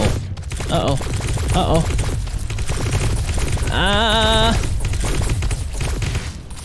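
Incoming gunfire hitting the player in the underground survival game It Lurks Below, a steady crackle of rapid shots under other game noises, with a voice exclaiming over it and a tonal chime partway through.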